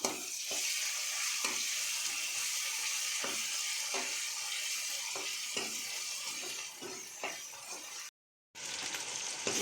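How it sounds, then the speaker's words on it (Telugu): Ginger sizzling with onion and tomato in a pan, a steady broad hiss broken by repeated stirring scrapes at an even pace, a brief gap near the end. "ఇప్పుడు కొంచెము 1 టేబుల్ స్పూన్ అల్లం వేసి పచ్చివాసన పోయే వరకు వేయించుకోవాలి"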